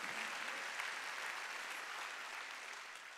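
Congregation clapping together at a Sunday church worship service, a steady even wash of hand claps filling the room throughout, fairly quiet and distant with no voice over it.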